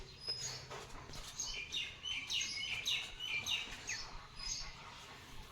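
Small birds and a pigeon gathered outdoors where street dogs are fed, making a faint flurry of quick, high chirps and tweets that come in repeated bursts, with no talking.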